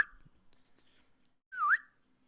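A pet bird gives its usual whistle, one short, clear, rising-and-falling note in an otherwise quiet room, close but soft.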